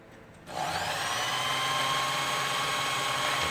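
A Lion L372 sewing machine runs with its bobbin-winder pulley screw released so the needle stays still. The motor starts abruptly and holds a steady, close, humming whine with no talk.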